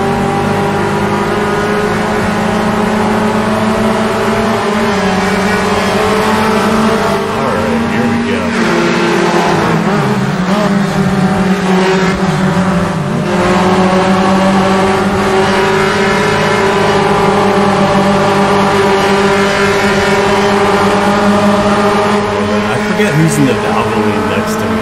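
Puma race car with a Volkswagen engine in Automobilista 2, its engine droning loud and steady throughout with rising and falling revs as it laps at speed.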